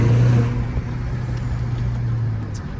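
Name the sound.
Renault Clio 4 RS engine with stock exhaust in tunnel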